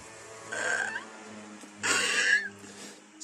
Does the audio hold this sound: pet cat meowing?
yes